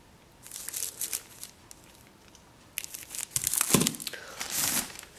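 Baking paper packaging crumpled and handled close up, with crinkling and tearing bursts that come in irregular clusters, quieter at first and growing louder and denser toward the end, with no talk.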